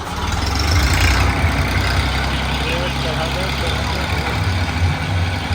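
A truck pulls in and idles at a house construction site, its heavy low engine rumble steady and fairly loud throughout, with a voice talking over it.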